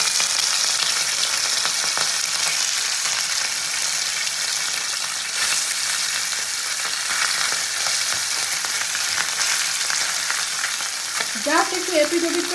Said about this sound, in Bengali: তেলটা খুব ভালো গরম হয়ে গেছে, এবার মাছগুলো আমি ছেড়ে দেবো